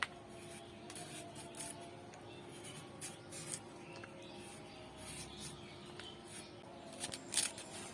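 Vegetables being cut by hand at midday in a home kitchen, faint, irregular soft cuts and clicks scattered over a steady low background hum, with a few sharper snips near the end.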